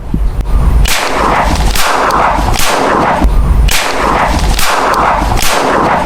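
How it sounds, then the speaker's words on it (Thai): A silver-finish Retay Eagle X Desert Eagle blank pistol fired in a steady series of about six very loud, sharp reports, close up, each shot with a ringing tail and no speech. "ลองเหนียวไกลยิงจริง ๆดูนะครับ"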